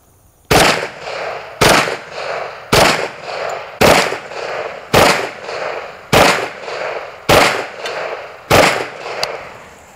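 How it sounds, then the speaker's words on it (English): Kriss Vector firing .45 ACP rounds at a target downrange, with eight loud, sharp reports spaced at a steady pace of roughly one per second, each trailing off in a short echo, and no talking. "I think these double taps coming from the Kriss are going to be really devastating downrange"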